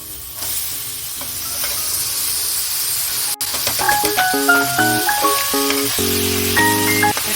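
Soaked, drained sabudana hits a hot pan for pulao and sizzles in a loud, continuous, close hiss, while faint musical tones play underneath in the latter half.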